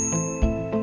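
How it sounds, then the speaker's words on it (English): A handheld cycle bell rings three times in quick succession, each ding bright and close with a sustained metallic tone lingering between strikes, heard alone without talk. "I've got with me my cycle bell"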